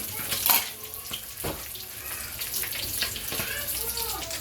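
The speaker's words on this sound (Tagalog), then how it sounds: "Ayan muna natin kumulo" A pot of liquid for a Filipino lunch dish simmers and bubbles toward a boil, giving a steady wet hiss with scattered pops and soft clinks of stirring close by.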